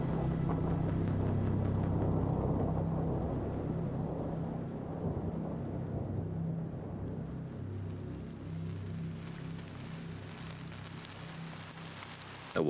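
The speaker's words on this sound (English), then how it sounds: "rain pounding on the cracked windshield of my hover" Heavy rain and deep rolling thunder fill a storm scene in the horror video game Hollowbody, a steady loud rumble and downpour that slowly eases, ending in a sudden sharp thump.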